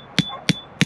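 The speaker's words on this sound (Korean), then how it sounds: "이게 바로 시골촌놈의 망치질입니다." Three sharp hammer blows drive a stake into the ground at a campsite to anchor a dog's leash line, evenly spaced and close, with a faint steady tone underneath.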